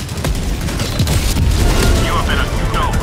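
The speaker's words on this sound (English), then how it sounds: "Watch out, because there's some big bombs." Heavy bombs detonate in the Helldivers 2 game, deep booming blasts and rumbling roll over one another in a loud continuous barrage, with a voice calling out over it.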